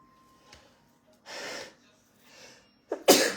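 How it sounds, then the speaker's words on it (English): A single sharp sneeze bursts out near the end, preceded by a couple of soft breaths and a quick intake of air. "So a little sneeze."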